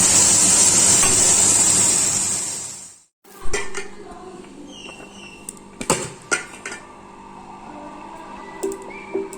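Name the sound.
bitter gourd and potato frying with salt and turmeric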